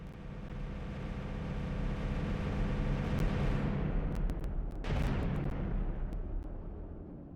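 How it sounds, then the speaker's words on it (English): Dense rumbling blasts from a bomber attack in the space game StarMade roll together into a continuous roar, loud and unbroken for several seconds with a few sharper bursts near the end. "There's so many explosions is causing my audio to freak out."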